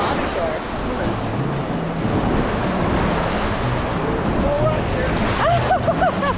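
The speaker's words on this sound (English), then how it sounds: "all the waves are coming on the shore" Ocean waves washing onto a beach, a steady broadband surge with wind buffeting the microphone and faint distant voices in the background.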